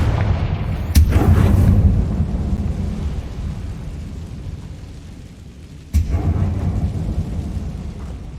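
Confringo blasting spells in the video game Hogwarts Legacy go off in two sharp, loud explosions several seconds apart. Each cracks and rolls into a deep thunder-like rumble that lingers and decays, with no speech.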